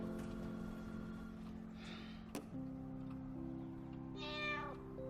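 A cat meows twice, soft and fairly close, over a low steady hum, with a sharp tick between the two calls.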